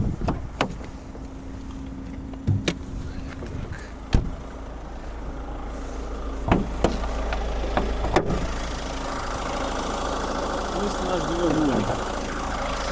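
A 1.6 HDi diesel engine in a 2015 Peugeot 308 SW idles with a steady low rumble, punctuated by a few sharp clicks and knocks, heard up close.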